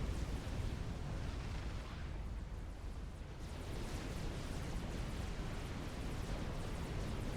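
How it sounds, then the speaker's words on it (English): Big video game explosions during a custom 4v4 match on Selkie Isle: a heavy, sustained booming roar that eases briefly partway through, then swells back with rumbling bursts layered on top. "Yeah, those are some big explosions."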